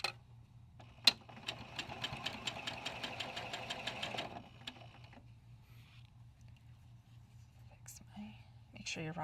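A sewing machine stitches quilt pieces together in a fast, even run of needle strokes lasting a few seconds, then stops, with quiet whispered talk over a low background hum.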